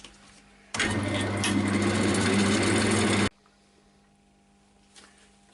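A turning tool rubs its bevel against a spinning sycamore bowl on a woodturning lathe, making a loud, dense scraping burst of about two and a half seconds over a quiet hum from the machine.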